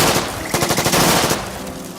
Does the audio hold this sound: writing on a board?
no